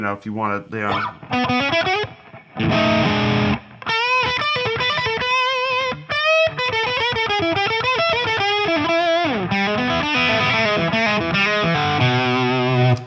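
Distorted electric guitar with a Beano-style tone plays a run of overdriven notes and chords, loud and continuous with brief gaps.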